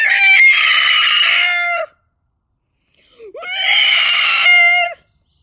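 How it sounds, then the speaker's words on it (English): A Pentaceratops bull in a jungle screams in terror, two long, loud, strained rooster-like shrieks separated by a brief silence, each ending with a falling tail. "The bull male, Pentaceratops, screams in terror. His scream echoes through the jungle."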